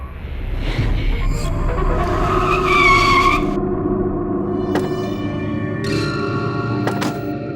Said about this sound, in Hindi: ड्राइवर उनके पास गाड़ी रोको।